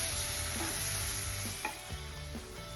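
Pav bhaji masala and spices such as chutney, salt, coriander-cumin, turmeric and chana masala cooking in a pan, a steady close sizzle with a few stirring scrapes, no voices.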